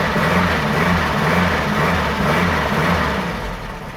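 A bone-stock single-port 1600 engine with IDF carburettors, just started, idles in a loud, close, steady rumble that eases slightly toward the end, with no talking.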